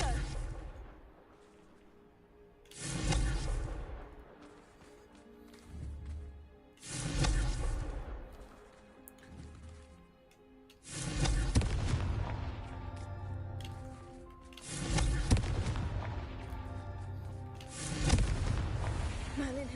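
Spell explosions in a Harry Potter video game burst out in repeated heavy booms, roughly every few seconds, each swelling and fading, loud and full with faint voices between them.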